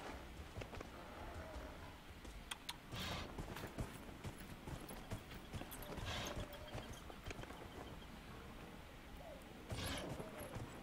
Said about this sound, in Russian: Дали лошадь покататься